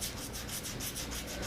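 Close, steady rubbing scrape of sanding on a sculpted figure's arm, a continuous abrasive hiss with faint rhythmic strokes, with no one talking.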